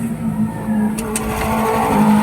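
Scooter with a noisy CVT drivetrain idling on a stand, a steady close engine drone with a constant low hum and slight rise in level, running alone without talk.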